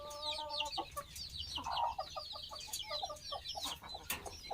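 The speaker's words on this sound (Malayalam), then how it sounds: "കുറച്ച് പൂവൻ കോഴികൾ സെയിലിനുണ്ട് കേട്ടോ." Roosters on a poultry farm cluck in quick, clipped bursts, with a short crowing-like call near the start. The sound is close and fairly faint, and a few sharp calls break through a busy farmyard background.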